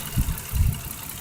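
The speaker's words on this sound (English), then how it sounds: "There's not a huge difference when you kill this cylinder" Car engine idling with one cylinder killed, a rough low rumble with uneven pulsing throbs, heard alone at close range.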